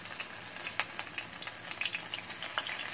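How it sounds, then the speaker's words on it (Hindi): Marinated prawns shallow-frying in oil over a slow flame give a steady close sizzle, with scattered pops and crackles rising above a constant hiss. "स्लो फ्लेम पे मैं इसको लाइट गोल्डन ब्राउन होने तक फ्राई कर लूंगी"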